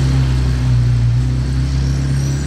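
A Ferrari 355 Challenge, a road-homologated race car, idles steadily with a deep, continuous engine rumble, close and loud throughout with no talking.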